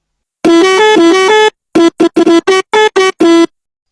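Novelty vehicle horn playing a loud musical tune: one sustained phrase with shifting notes, then a string of short rhythmic bursts with gaps between, close and alone.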